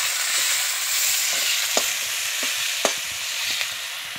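Chopped onions fry in hot oil alongside bay leaf for doi chicken kosha, giving a dense, even sizzle with a few soft spatula taps and scrapes, close up and free of speech.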